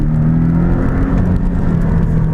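A loud, steady engine drone with a deep, throaty exhaust rumble from a 2016 Porsche 718 Boxster S turbo engine with sports exhaust, heard from inside at constant revs, without speech.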